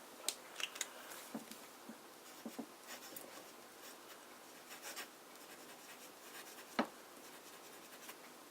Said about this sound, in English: We should also do a bit of medium writing.